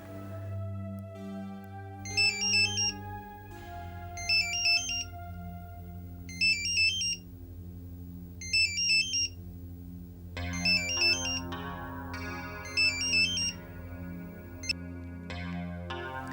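A mobile phone ringtone rings repeatedly in a steady melodic pattern of bright chiming bursts over a sustained tonal background, clear and close, with no talking.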